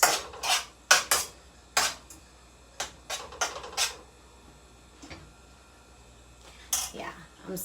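Ingredients being mixed in a bowl, heard as a run of sharp clinks and scrapes of a utensil against the bowl in irregular bursts, some close together and some spaced apart, fairly close and moderately loud.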